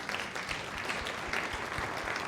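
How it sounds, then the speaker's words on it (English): An audience claps for a presenter at a business event, a dense, even patter of many hands that holds steady for a couple of seconds. "Let's give Emily a round of applause."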